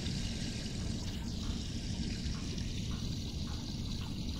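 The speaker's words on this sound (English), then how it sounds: "We need to turn off the water for a moment." Steady running water in a submarine in a VR video game, a continuous pouring rush that holds at an even level throughout with no talk over it.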